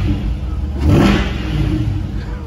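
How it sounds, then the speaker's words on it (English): A 2021 Chevrolet Corvette Z51 2LT with its exhaust open gives a loud, close rev that surges and then settles back to a deep idle rumble. "I'm gonna give it a couple revs"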